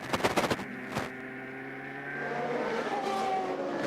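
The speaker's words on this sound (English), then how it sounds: "Cars coming off turn 12 to complete the second of 3 yellow flag laps" CART race cars at the 2002 Australia round come off turn 12 under a yellow flag. A few sharp clicks open onto a sustained, droning engine whine that slowly builds and holds steady.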